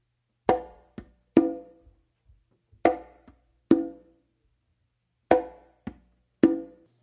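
Conga played with a close slap, soft ghost notes and ringing open tones in a modern Patato-style tumbao, about eight sharp strokes in an uneven pattern, close and clear, with short decays and silence between hits.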